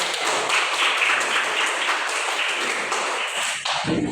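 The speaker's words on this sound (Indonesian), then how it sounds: "Tepuk tangan buat kalian semua." A classroom of students clap their hands together in a dense, continuous burst that stays loud throughout before cutting off abruptly at the end.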